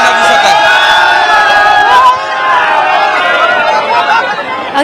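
A large street crowd in Nashik celebrates India's cricket win over Pakistan, with loud, dense chatter, shouts and whoops from many voices close by, and cheers for Kohli rising and falling throughout.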